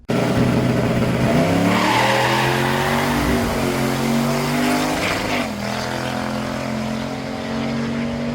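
A turbocharged Chevy Silverado truck with independent rear suspension launches down a drag strip, its engine roaring loud and close with rising revs, a brief shift dip midway, then steady hard acceleration to the end.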